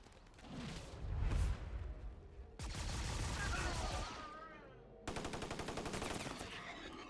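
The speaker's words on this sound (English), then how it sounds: "Bombing run, they're going to bombard my people now." Bombing-run bombardment in a turn-based strategy game about super soldiers fighting aliens: loud bursts of rapid gunfire and explosive rattling in three separate waves, with brief gaps between them.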